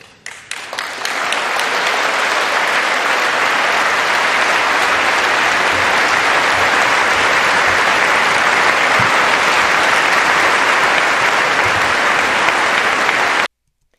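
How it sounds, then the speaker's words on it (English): Congress breaks into bipartisan applause for President Trump's 2019 speech. The clapping swells in the first second into a dense, loud, sustained roar that holds steady for about twelve seconds before cutting off abruptly. "That was Trump back in 2019 and getting rare bipartisan applause for calling for an end to endless wars"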